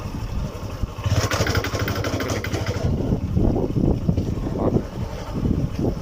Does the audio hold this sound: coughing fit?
no